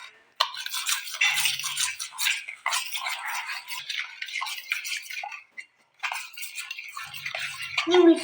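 Bread fry ingredients and sugar being stirred in a bowl, a steady run of scraping, clinking strokes that carries on for several seconds, up close and with nobody speaking.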